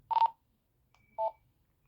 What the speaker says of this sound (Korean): 밖에 삑삑 하는 소리 들리시죠?